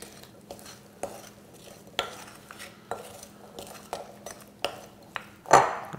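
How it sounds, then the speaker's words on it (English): Roasted garbanzo beans are tossed with salt in a bowl, making a series of light, rhythmic clattering knocks and rattles about once a second, with a sharper scrape near the end. "I'm just going to retoss this and try to mix those ingredients all around"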